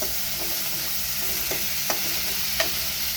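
Chopped curry leaves sauté in hot oil in a pan for besan pithale, a steady close sizzle with a few soft spoon scrapes and taps against the pan, with no voices.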